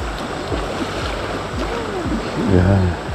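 Swift water of the Harpeth River rushing past a kayak, a steady broadband wash that swells louder near the end, with voices talking over it.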